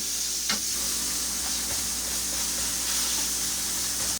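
Tater tots frying in a hot pan with a constant loud sizzle and hiss, with occasional scrapes and taps as they are stirred and moved around, close up, no talk.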